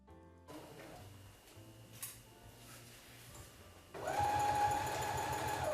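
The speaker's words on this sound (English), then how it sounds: "Sewing on the blackout lining." A sewing machine stitches blackout lining onto a drapery panel, starting with slow intermittent stitching and then running fast and steady, close up with a rapid mechanical whir.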